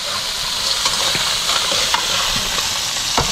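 Crab frying in a hot pan at an outdoor crab-catching camp gives a steady, loud sizzle with stirring clatter throughout, and no one speaks.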